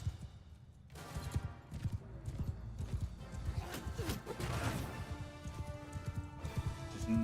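Horse hooves gallop in the video game Mount & Blade 2 during a battle, a dense, rapid clip-clop close up that mixes with clashing impacts and the clatter of combat.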